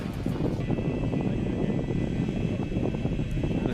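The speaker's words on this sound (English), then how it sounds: "It's still rather windy out there, and you can hear it on the outboard microphones now" Gusty wind buffeting trackside microphones at the Motorland Aragon circuit during a Spanish Formula 4 race, a steady low rumble and roar with no talk.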